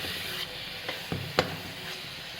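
Turnip (shalgam) frying in a pan, a soft steady sizzle broken by a few scraping stirs with a spoon, one sharp knock against the pan near the middle.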